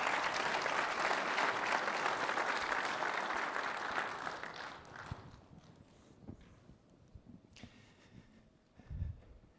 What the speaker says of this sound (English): Big applause to Sinahi and John.